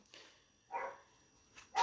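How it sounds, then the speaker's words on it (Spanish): A small dog barks three times in the distance, short yappy barks spaced irregularly over quiet room tone, the last one the loudest. "Ahí justo ladró un perrito."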